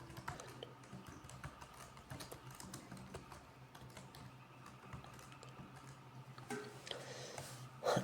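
Steady computer keyboard typing while JavaScript code is entered, rapid close key clicks in uneven bursts over a low background hum, with no talking.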